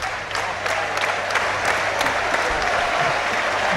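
Football crowd at a York City versus Yeovil Town National League match, on their feet applauding in a dense, sustained roar of clapping that fills the stadium, steady and loud for several seconds.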